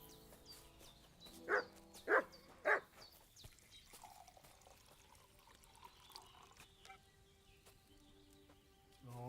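A dog in the medieval game Kingdom Come: Deliverance II gives three loud, evenly spaced barks, with quiet ambient game sound and faint trickling water around them.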